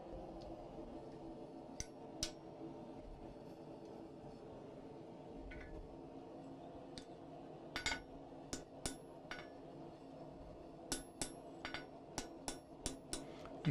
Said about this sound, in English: You can see how I'm dropping the hammer down.